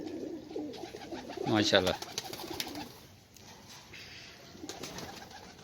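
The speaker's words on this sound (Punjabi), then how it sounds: "ਇਹ ਕਾਲੇ ਮੂੰਹ ਵਾਲਾ ਇਹਨਾਂ ਦਾ ਕਬੂਤਰ ਹੈ ਜੀ।" A black-faced pigeon and others on a rooftop pigeon-keeping setup in Sialkot give soft, low, repeated coos, while people talk nearby at moderate volume.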